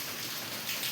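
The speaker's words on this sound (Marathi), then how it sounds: "4 दिवस झाले असून पाऊस लगातार यायला आहे ना" Steady rain falls without pause after days of continuous downpour, a dense, even hiss of drops close by with no breaks.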